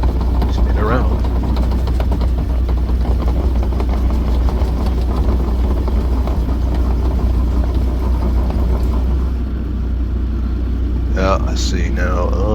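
Bobcat E42 excavator engine running steadily with a low, constant rumble while the machine backs up and spins around, close and loud throughout, with someone talking over it.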